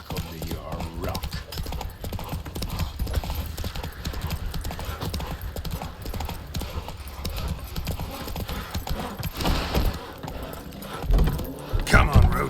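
Hoofbeats of Roach, Geralt's horse in The Witcher 3: Wild Hunt, clop steadily through the whole stretch under game music and a voice, with a louder burst of movement near the end.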